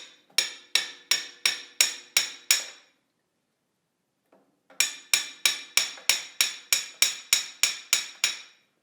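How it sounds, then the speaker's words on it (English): A hammer taps on a steel pry bar while seals are removed from a Bolens HT20 rototiller: two runs of sharp, evenly spaced metallic strikes, about eight then fourteen, separated by a short pause, close and clear. "and then the hammer"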